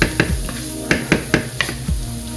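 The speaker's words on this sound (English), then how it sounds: "let that just continue to fry up there" Walnut meat, crumbled walnuts cooked like ground beef, fries in a pan on low heat, with a steady sizzle broken by several sharp scrapes and clinks as it is stirred.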